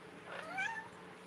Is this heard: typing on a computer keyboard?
no